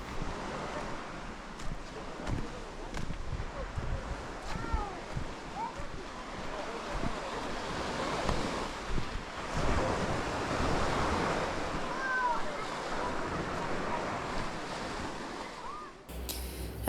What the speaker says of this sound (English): you can just begin to hear the sound of the waves